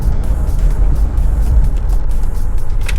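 A 2018 Dodge Caravan minivan drives along with a loud, steady low road and engine rumble filling the cabin, continuous with no talking.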